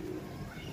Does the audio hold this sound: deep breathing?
no